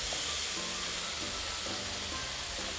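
Thinly sliced meat sizzles on a hot yakiniku grill, a steady bright frying hiss that runs continuously and close, with faint crackles underneath.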